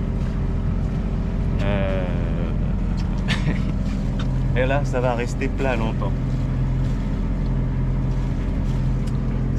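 A sailboat motoring under engine on a flat calm sea at early morning, a steady low engine drone and water noise running throughout beneath someone talking.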